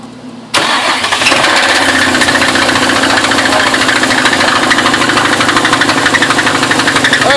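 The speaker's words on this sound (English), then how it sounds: "350Z engine running with no timing cover." A Nissan 350Z engine with no timing cover cranks and catches, then runs loudly and steadily with a harsh, rapid metallic clatter throughout.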